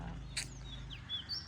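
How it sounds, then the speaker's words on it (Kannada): Small birds chirp in short high tweets at a rural temple near a farmhouse, faint and somewhat distant over a steady low outdoor background. "ಸೌಂಡ್ ಕೇಳಿಸ್ಕೊಳ್ಳಿ, ಪಕ್ಷಿ ಚಿಲಿಪಿಲಿ ಅಂತಿರೋದು"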